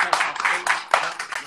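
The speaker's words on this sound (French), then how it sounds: "On peut l'applaudir encore une fois." Studio audience applauding an esports match winner, a short burst of close, fairly loud clapping with uneven bright claps over a brief moment of talk.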